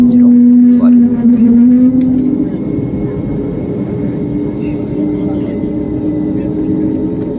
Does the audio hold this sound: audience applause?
no